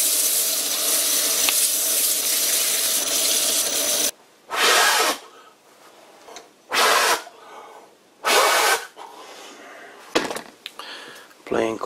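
Hand sanding a wooden carver's mallet with 400-grit paper: a continuous hissing rasp of strokes, then several short separate bursts of scrubbing with quiet gaps between.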